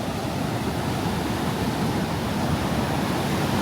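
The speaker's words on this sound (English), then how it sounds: "We're here in Legian at the beach." Ocean surf at Legian beach in Kuta, Bali, a steady loud wash of breaking waves and wind, continuous and unbroken with no voices.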